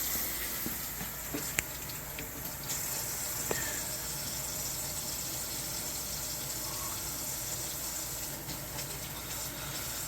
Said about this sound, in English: Let's put some water over there and see what happens.